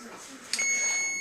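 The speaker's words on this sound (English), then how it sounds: "my timer's going off" A kitchen timer sounds in a home kitchen during bread baking, starting abruptly as a sustained high electronic tone over a soft room background.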